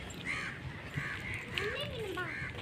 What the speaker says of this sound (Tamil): டே நிறைய காக்கா வந்துருச்சுடா